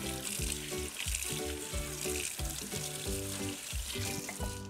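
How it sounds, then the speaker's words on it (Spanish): Hands rinsing chocolate off under a running kitchen tap, a steady splashing rush of water with faint irregular rubbing beneath it. "y también una lavadita de manos porque el chocolate hace sus sus desastres"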